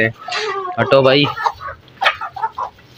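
Chickens cluck and squawk close by while someone speaks over them.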